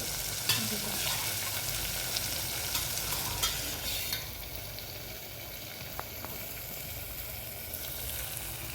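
Masala sizzles steadily in oil with occasional stirring clicks from a pan, continuous and fairly quiet, with no voices.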